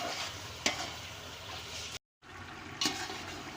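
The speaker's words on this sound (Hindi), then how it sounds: "अब चनों को अच्छे तरीके से इसके अंदर डाल के भून लेंगे।" Chickpeas stirred and fried in a cooked-down masala, a steady soft sizzle with two sharp scraping stirs about two seconds apart and a brief gap of silence between them.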